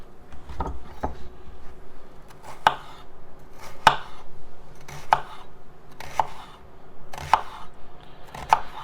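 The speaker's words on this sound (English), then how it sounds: "So the first thing we're going to do is get the vegetables diced up. I'll start with the onion here. Cut it in half." A knife chops through onion on a cutting board in a kitchen, with sharp, evenly spaced knocks about once a second, close and clear, and no talking.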